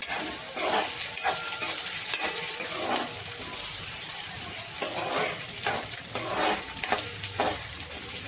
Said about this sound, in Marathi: आपला तेल तापलं बघा चांगलं आता छान आपण कांदा थोडा परतून घेऊया